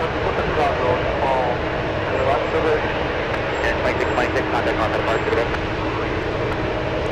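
Airliner engines at San Francisco International Airport give off a constant loud roar, with people talking over it.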